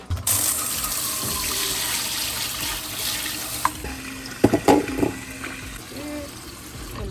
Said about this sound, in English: so now we're just washing the produce.